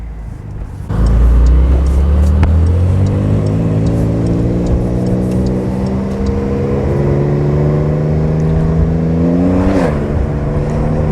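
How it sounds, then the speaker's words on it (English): A 2020 Porsche 911 Carrera S with a DCT gearbox accelerating hard, heard from inside with a window open: the exhaust note climbs loud and steady, then rises sharply into a quick gear change near the end. "I'm gonna open this window up so you can hear the exhaust note a little bit more"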